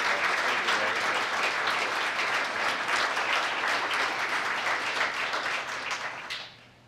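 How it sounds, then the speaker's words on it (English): Loud sustained applause from an audience at a police awards ceremony for an officer receiving a Medal of Commendation, steady clapping throughout before fading out at the end. "let's give Shay a loud round of applause"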